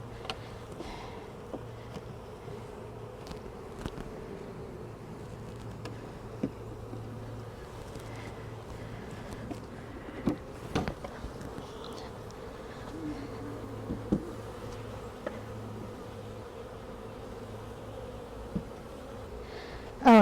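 A swarm of honeybees from a top bar hive hums in a steady, dense drone around the hive, with scattered knocks and handling clicks over it throughout.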